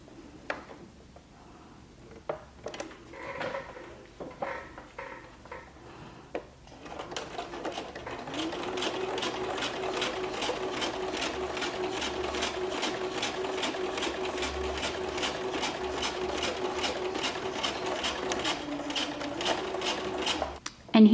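After a few quiet clicks and handling noises, a sewing machine runs steadily for a long stretch, top-stitching a patch pocket with a twin needle, its fast even whir close and uninterrupted.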